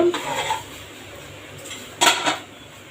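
A metal lid set onto a cooking pot of greens in a home kitchen, giving two clattering metallic knocks, the louder one near the end, close up with no talk.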